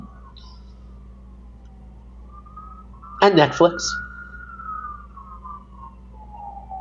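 An emergency vehicle siren wails through New York City streets, a steady, distant tone that slowly bends in pitch. Someone talks over it, and a brief louder clatter cuts in midway.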